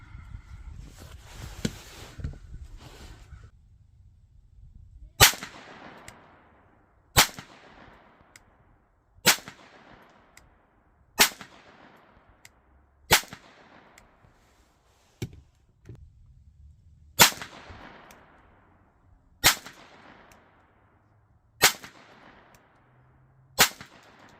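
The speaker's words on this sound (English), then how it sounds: "We shoot a few more, 5 more each, same aim points." Outdoor target shooting with a Taurus TX22 and a Sig Sauer P322 pistol: ten sharp single .22 gunshots at steady spaced intervals, each cracking loudly then trailing off, with quiet handling noise before the first shot.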